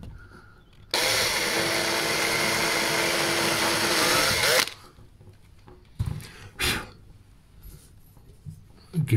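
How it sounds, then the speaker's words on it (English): Power drill boring through a pilot hole into wood while making a radiator grille, a steady loud whir lasting about four seconds, followed by quieter handling knocks and clatter. "And I'm going to drill through the hole into the wood just a little bit."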